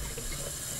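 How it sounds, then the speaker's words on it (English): Water runs steadily from a tap onto a whetstone, rinsing off metal filings left from sharpening a knife; a close, continuous splashing hiss with no voices. "I'm going to take some water and kind of remove some of these metal filings"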